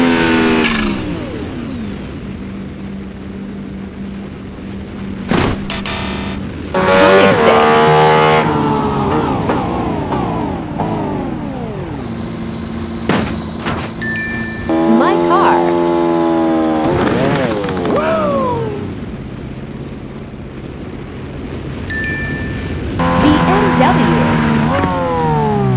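A Pagani supercar engine in BeamNG.drive, revving and accelerating through repeated rising and falling whines across several gear changes, loud and close, with occasional sharp impacts between pulls.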